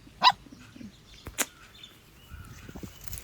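A small street puppy cries with a couple of short, sharp yelps spaced apart, fairly close, against a quiet outdoor background.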